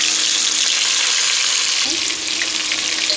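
Steady loud sizzle of browned onions and spices frying in a pan for chicken biryani, with bright crackling throughout and a faint stir or clink partway through.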